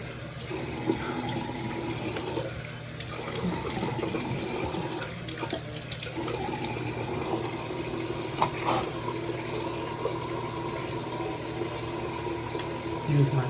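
Tap water runs steadily into a bathroom sink while a face is rinsed, a constant close splashing stream with small irregular splashes and a few soft knocks throughout.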